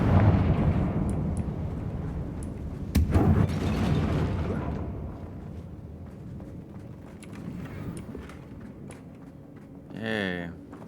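A Confringo blasting spell goes off in Hogwarts Legacy with a sharp, loud burst near the three-second mark that rumbles briefly. Low game ambience and talk run underneath, and a short whooshing sweep rises near the end.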